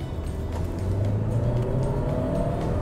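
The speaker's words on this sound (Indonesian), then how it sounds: "tarikannya enak banget. Karena apa? Mobil ini udah dilengkapi dengan mesin 1500 cc turbo" A 2024 Kia Seltos with a 1.5-litre turbo engine accelerates in sport mode, a steady, fairly loud engine drone and whir whose pitch rises slightly as the car pulls, with no talking.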